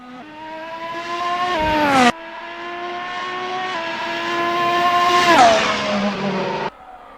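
Ferrari SF70H Formula 1 car in Assetto Corsa, its high-pitched engine screaming up through the revs, cutting sharply on an upshift and then climbing again, loud and close with no talking.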